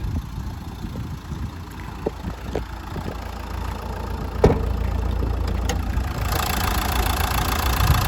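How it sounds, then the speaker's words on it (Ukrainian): A 2013 Nissan Qashqai 1.5 dCi diesel with 177,000 km idles close by, giving a steady, even low rumble with faint mechanical ticking, and no voices over it. "Двигун працює рівно, такесенько,"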